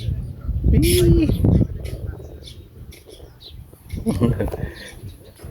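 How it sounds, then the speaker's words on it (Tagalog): A bird gives a short call near a fishpond at sunrise, heard early on amid nearby people talking and laughing, with more outdoor chatter later. "Ibon."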